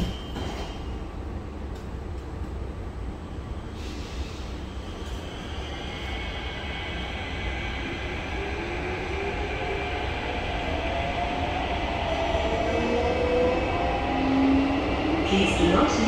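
Steady rumbling and clatter of an SMRT T251 metro train in motion between Woodlands North and Woodlands South, with a rising electric motor whine as it gathers speed.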